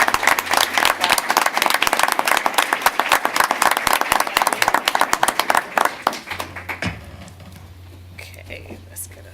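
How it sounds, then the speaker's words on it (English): Audience claps for a student being honoured at a school board of education meeting, brisk and fairly close for about six seconds, then thinning to a few scattered claps over a low hum. "Come forward so we can all give you a big round of applause."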